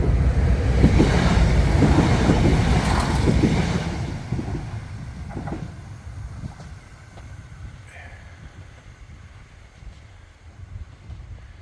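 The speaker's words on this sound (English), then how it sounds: "because there's one coming in." A train rumbles in nearby on a single-track branch line at Rye station, a heavy low roar that gradually fades into quieter rolling and clanking as it slows, with wind buffeting the microphone.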